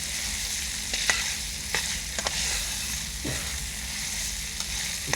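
Tilapia fish frying in oil on a brick stove, giving a steady close sizzle with scattered pops and crackles throughout and no talking.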